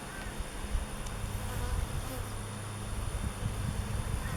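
Honey bees buzz steadily around an opened nuc hive during an inspection, a close, continuous drone with individual bees passing nearby, faint and without speech.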